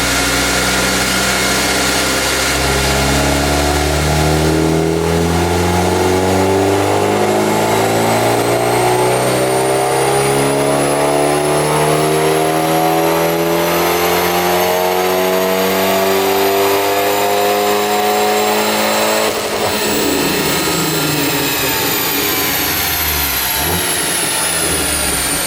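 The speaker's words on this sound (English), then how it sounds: "Okay, so we've dynoed the car as it sits. It makes about 180 horsepower." An Abarth 124 roars through a full-throttle pull on a chassis dyno, engine pitch climbing steadily for about twenty seconds before the throttle lifts and it winds down, loud and close with no talk.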